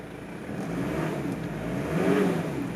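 Engine of a 1995 Mitsubishi Pajero Exceed-II turbo diesel with intercooler, idling smoothly with a steady low hum that swells slightly near the end, close and alone.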